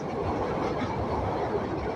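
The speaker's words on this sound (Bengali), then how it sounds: "দুরন্ত গতিতে রেল ছুটে চলছে" Loud, continuous roar of the Rangpur Express crossing the new Jamuna rail bridge at speed, with a steady rattling rumble, close by and unbroken throughout.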